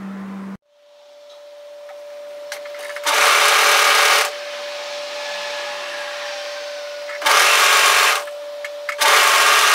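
An overlocker sews the underarm seam of a Rosa-pattern dress in three loud, steady bursts of machine whirring, with a constant hum and quieter pauses between the runs.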